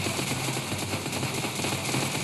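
Rapid continuous machine-gun fire from a gun in a Minecraft PE zombie apocalypse add-on, a fast, even stream of sharp shots that stays steady and loud throughout, with no voices.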